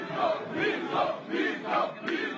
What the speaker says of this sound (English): the rapturous applause he's receiving as he travels the country building support for his campaign